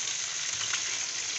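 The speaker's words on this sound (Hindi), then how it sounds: "अब ये फ्राई हो रही है, खूब अच्छी क्रिस्पी होंगी" Fish fingers fry in hot oil with a steady, dense sizzle that holds even and close throughout, with a brief brighter crackle near the middle.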